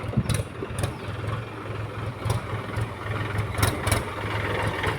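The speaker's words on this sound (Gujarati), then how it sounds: "તો બેઠી જઈએ ટ્રેક્ટરમાં." A tractor fitted with a rotavator idles close by, its engine holding a steady low throbbing rumble for several seconds with no voices.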